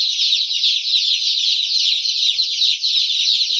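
A dense, nonstop chorus of high-pitched peeping rises from a crowd of eight-day-old black chicks and ducklings kept together for sale. It is loud and close, with no pauses and no voices.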